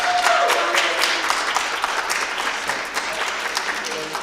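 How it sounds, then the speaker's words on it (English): Audience applause at an inclusion and internationalisation event in Europe, a steady wash of many hands clapping that starts loud and carries on evenly, with a brief tone and faint voices underneath at the start. "I'd like to give a special thank you and applause to Jolanta."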